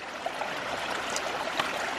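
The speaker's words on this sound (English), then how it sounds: "water is bypassing the pump and it's going out the delivery side" Water rushes and gurgles steadily through a 3/4-inch hydraulic ram pump installed on a farm, a continuous close flowing hiss with faint clicks and splashes and no speech.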